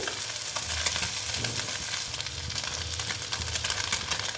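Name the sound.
mourola fish frying in oil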